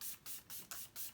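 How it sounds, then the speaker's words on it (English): XX Revolution Face Fix setting spray mist is pumped from a fine mister in five quick, soft hissing bursts with short gaps between, close and quiet. "I'm going to be using the XX Revolution Face Fix Setting Spray Rejuvenating Fixing Mist"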